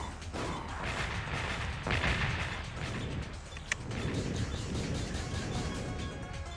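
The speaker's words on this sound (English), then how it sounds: "Let's shoot our missiles." Missiles launch in a retro combat video game, a dense roaring rush of engine and blast noise that swells sharply around the second mark, with a brief sharp crack later and a sustained rumble throughout.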